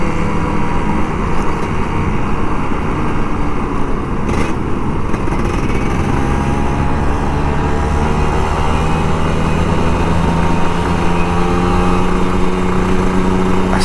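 A Kawasaki Ninja RR 150 two-stroke motorcycle riding on a morning commute, its engine droning loud and steady with shifting whining pitch over constant wind and road noise.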